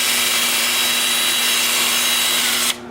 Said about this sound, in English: I'll sand those as well.